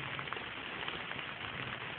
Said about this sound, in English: it's been raining on and off all day. Not hard rain, but I would say a little drizzles and all that.